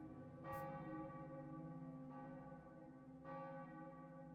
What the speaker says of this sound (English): Oh my goodness, honest to God, church bells.